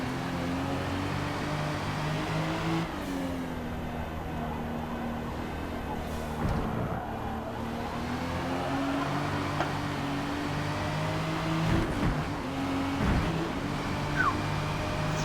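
A 2020 Toyota Supra race car on the Indy GP track, its engine holding a steady droning tone that rises and falls with shifts and throttle changes, heard from inside the car.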